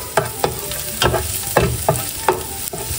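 Garlic and onion sauté in a pan as the base for mung bean stew with crab, a bright sizzle with rhythmic stirring strokes about every quarter to half second, close and fairly loud.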